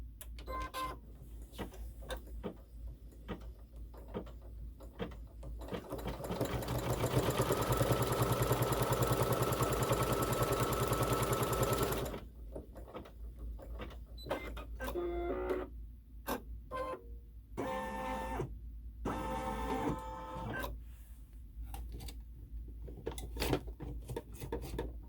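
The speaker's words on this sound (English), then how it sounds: "now we'll stitch it into place" A sewing machine stitches top border trim onto a quilt block, running in a steady mechanical whir that swells louder for several seconds, then drops into short stop-start bursts of stitching, close and with no voice over it.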